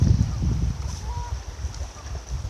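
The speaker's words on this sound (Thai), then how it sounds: "ได้ยินเสียงนกเป็ดน้ำ" Ducks quack a few times near water, mid-distance, over a low rumbling background.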